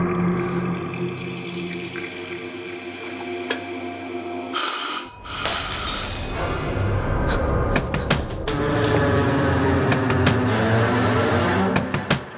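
A telephone rings on and on with no one picking up, its repeated ring standing out clearly against a busy background of other sounds, then continuing steadily after a brief pause partway through.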